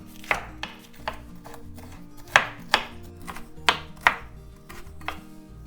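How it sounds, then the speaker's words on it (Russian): A knife chops finely through a sweet bell pepper on a board, giving about a dozen crisp, close knocks at an uneven pace, with no voices. "Также я мелко порежу 1/3 часть сладкого болгарского перца."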